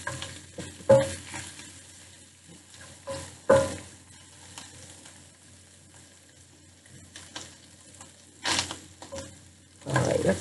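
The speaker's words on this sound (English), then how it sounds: "the more it gets cooked, the less the frying sound" A ham breakfast scramble fries in oil in a pan with a soft, steady sizzle, broken by occasional louder bursts of stirring and scraping. No one speaks.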